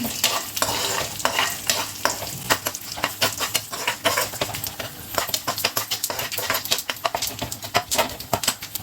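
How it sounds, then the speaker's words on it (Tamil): Vadagam and a few dried red chillies frying in hot oil, a dense, loud crackling sizzle with frequent sharp pops and spatters running throughout, no voices. "வடகம் பொரிஞ்சிருச்சு"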